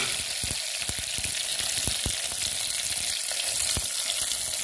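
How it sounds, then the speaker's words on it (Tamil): Vadagam fries in hot oil in a clay pot, giving a steady close sizzle with scattered crackles and pops throughout. "அடுப்புல எண்ணெய் வச்சிட்டேன் இப்போ வடகம் போட்டுக்கலாம்"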